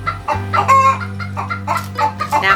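Backyard chickens clucking close by in a clean coop near a nesting box, several short, choppy calls overlapping in quick succession, loud and alone with no talk.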